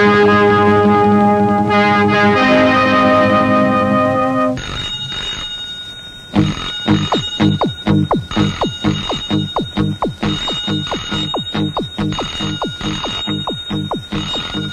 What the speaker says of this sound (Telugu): రింగ్ అవుతుంది ఆగిపోతుంది, రింగ్ అవుతుంది ఆగిపోతుంది